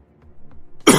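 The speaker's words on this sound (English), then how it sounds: "This cough is killing me." A single sharp, harsh cough bursts out close by after a moment of near silence and faint breathing.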